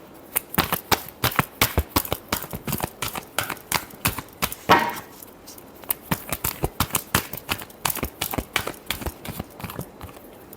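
Tarot cards being shuffled by hand: a quick, rhythmic series of crisp riffling snaps and taps up close, with a brief pause partway through before the shuffling resumes.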